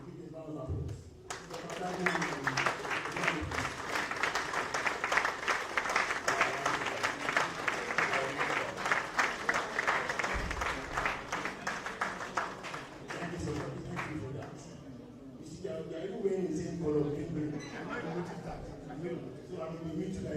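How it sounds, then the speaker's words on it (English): An audience at a broadcasting workers' workshop and book launch gives a sustained round of applause for station founders, loud clapping that builds quickly, holds for over ten seconds, then fades as a voice begins speaking. "please help me to give a round of applause"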